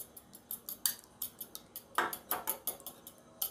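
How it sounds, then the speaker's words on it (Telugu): An egg whisked with a fork in a bowl, a quick run of light metallic clinks and taps in an uneven beating rhythm, close and fairly soft, with no voices. "ఇలా ఫోర్క్తో బీట్ చేసుకున్నామంటే సరిపోతుంది, బీటర్ ఏమీ అవసరం లేదు దీనికి."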